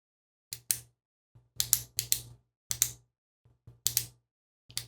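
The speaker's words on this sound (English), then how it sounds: "What about clicking your pen?" Pen being clicked in small bursts, paired sharp clicks repeated at irregular intervals with silence between them, close and clear.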